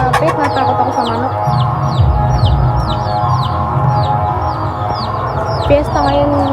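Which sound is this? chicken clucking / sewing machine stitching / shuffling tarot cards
chicken clucking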